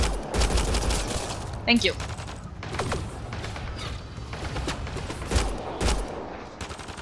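Gunfire in Mass Effect: Andromeda, a string of sharp shots and bursts spread across the clip, loud and close, with a voice speaking briefly among them.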